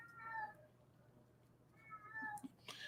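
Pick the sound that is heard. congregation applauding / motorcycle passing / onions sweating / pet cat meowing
pet cat meowing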